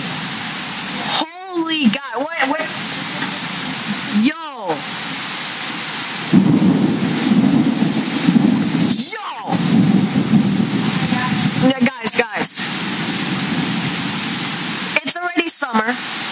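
A violent thunderstorm with rain over New York City: sharp thunder cracks and deep rumbles roll over a steady hiss of rain, while startled voices exclaim close by.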